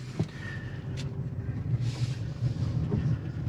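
A 2022 Jeep Grand Cherokee 4xe driving fast off-road, a steady low rumble of tires and suspension with rattling and thumps throughout, close and continuous, no talk.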